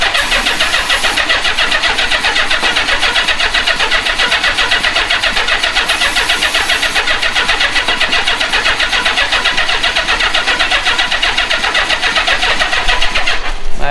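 An old Honda Goldwing motorcycle engine cranks continuously without catching, a close, loud, rapid rhythmic starter churn lasting many seconds before ending in a short clunk.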